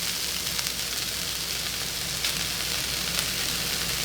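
Tuna sisig sizzling steadily in a hot pan as mayonnaise is added, a dense, even frying crackle throughout with no talking.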